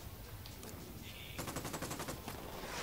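Rapid automatic gunfire from Ghost Recon Wildlands, distant at first and then a fast burst of evenly spaced shots over a constant hiss, with a brief tone partway through.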